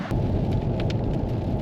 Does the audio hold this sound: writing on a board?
no